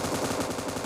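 Rapid automatic gunfire from a PUBG Mobile match rattles in a dense, continuous burst, loud and close, with no voices over it.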